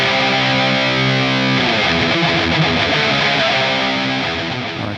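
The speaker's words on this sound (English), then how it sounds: "So we have a distortion, amp, dual cab, EQ, another EQ, and a delay for the rhythm." Electric guitar through a Line 6 Helix rhythm preset built by AI, with distortion, amp, dual cab, EQ and delay, playing heavy chugging palm-muted riffs, loud and dense, fading slightly at the end.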